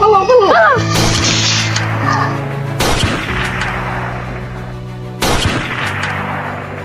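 Three loud, sharp gunshots ring out several seconds apart, each followed by a ringing echo, after a brief voice at the start.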